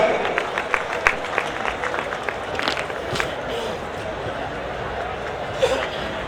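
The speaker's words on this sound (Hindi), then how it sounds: "आपकी भरपूर तालियों में" Guests at a college annual dinner clap in a moderate, somewhat scattered round of applause, with a few sharper individual claps and some crowd murmur underneath.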